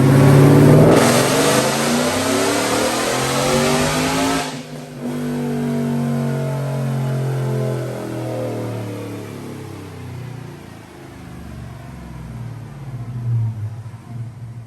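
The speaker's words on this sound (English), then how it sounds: "Check out this dyno pull." A 2021 Roush F150 pickup with a Roush supercharger and Kooks headers is run on a dyno. The engine revs up hard, its rising whine and exhaust roar sweeping upward, then drops back briefly and climbs again, loud and close.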